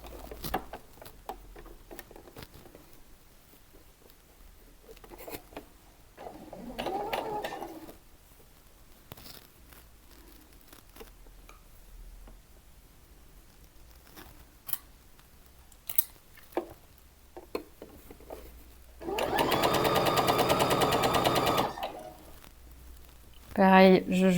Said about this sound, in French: Je positionne et nous allons coudre.